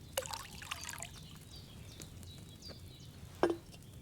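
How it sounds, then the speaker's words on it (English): Wine poured from a pitcher into a cauldron in Kingdom Come: Deliverance II makes a faint, quiet trickle with a few soft splashes and drips against a low background hush. "So, what did you pour in there? Wine, of course."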